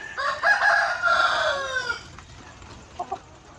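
Hens and a rooster on an egg-laying farm in the afternoon, a loud nearby crow stretching over the first two seconds, followed by softer scattered clucks.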